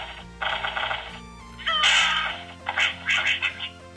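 Angry Birds game sounds play from a Nokia Asha 311 phone: bright chirpy sound effects, bird squawks and jingles in bursts, with a busy louder stretch in the middle and faint tones underneath.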